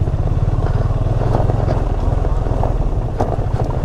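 A motorcycle rides an off-road hill track in North Bengal near pine forest, its engine pulsing in a steady low putter close by, with wind buffeting the microphone.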